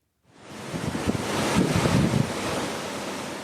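Ocean waves in the blue waters of the Gulf of Oman wash in with a broad, rushing surf roar that rises from quiet and holds steady, mixed with gusty wind noise on the microphone.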